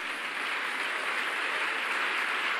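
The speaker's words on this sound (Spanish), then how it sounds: "¡Den un aplauso a Jesús!" Church congregation at an IPUC service clapping together, an even wash of applause that stays steady and moderately loud from start to finish with no one speaking.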